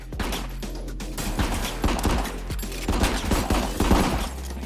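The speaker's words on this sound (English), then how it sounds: "You started shooting at me!" Gunfire in a co-op shooter video game called Rico, rapid bursts of close, loud shots and thuds crowding together over several seconds with no talk.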